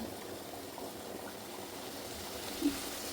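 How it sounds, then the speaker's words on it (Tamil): Chicken curry boils in a pot with a continuous quiet bubbling hiss, even and unbroken, plus one small pop near the end. "அப்புறம் குழம்பு நல்லா கோச்சிக்கிட்டுருக்கு"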